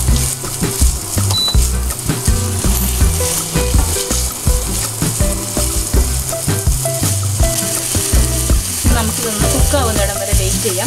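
Chicken and onions sizzle and crackle steadily in a hot pan while being stirred, with scraping and clinking of a utensil repeating throughout, loud and close with no talking.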